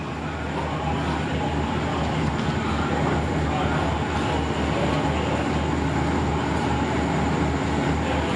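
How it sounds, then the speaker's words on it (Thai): Train 51, Bangkok to Chiang Mai, pulls out from platform two at Bang Sue station at night, giving a steady, loud rumble of rolling stock and engine that holds unchanged throughout. "ขบวน 51 ได้สัญญาณ ทำขบวนออกจากชานชลาสองบางซื่อแล้ว"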